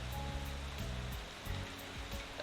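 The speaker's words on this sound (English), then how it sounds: "Walking through this rain is like fighting a waterfall." Heavy rain falls steadily in a video game scene, a constant wash of hiss with soft low thumps underneath, alone and moderately loud.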